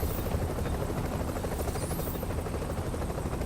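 Extraction helicopter in The Division's Survival mode, a steady rotor drone and whine, close and constant, with no talking over it.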